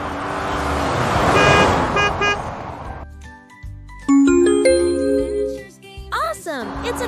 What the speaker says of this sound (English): It's a car sound.